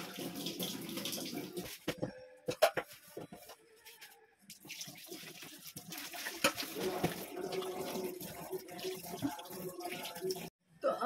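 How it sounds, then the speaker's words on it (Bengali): Chicken is rinsed under a running kitchen tap, with splashing water broken by brief pauses and handling clatter, moderately close and fairly quiet. "তো চলো এখন চিকেনটা ধোবো"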